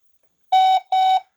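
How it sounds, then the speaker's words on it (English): A smart bulb camera sounding its ready-to-pair signal, two loud, clean electronic beeps of equal length with a short gap between them, alone in silence. "when you hear that beep, it goes beep beep, it means it's ready to be paired"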